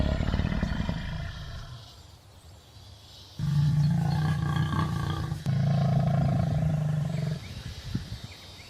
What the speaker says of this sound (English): At a dry oasis, the silhouette of a sly and experienced lion appears.